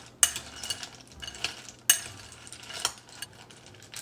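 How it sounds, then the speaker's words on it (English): A spoon stirs and scoops through chocolates in a container: two sharp clattering scrapes stand out among softer rustling and clinking strokes, close and fairly quiet, with no talking. "Now I'm gonna take a spoon and kind of mix up the chocolates"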